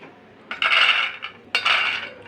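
Fried peanuts are scooped off a hot pan in two close, clattering bursts of rattling nuts and scraping metal, with a softer sizzle between them and no talk.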